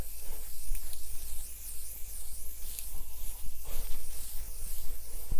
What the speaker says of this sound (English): actually before we do anything else, we're going to spray our face